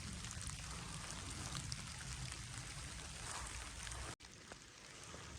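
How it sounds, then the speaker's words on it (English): Steady rain falling at an off-grid homestead, a constant dense hiss with a brief dropout near the end and no voices. "Listen to the rain."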